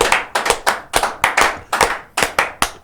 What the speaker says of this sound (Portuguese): Palmas aí pra Painho